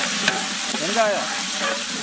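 Onions sizzle loudly in hot oil for a duck gravy while being stirred, a close, continuous frying hiss with scraping stir sounds and no talking.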